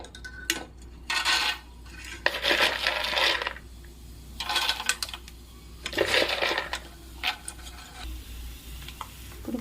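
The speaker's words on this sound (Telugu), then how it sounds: "ఇప్పుడు వేయించుకున్న పల్లీలు దీంట్లోకి ట్రాన్స్ఫర్ చేసుకున్నాం." Roasted peanuts, dry-toasted in a pan for an oil-free snack mix, being poured and shaken into a container, with bursts of rattling and clattering nuts separated by short pauses.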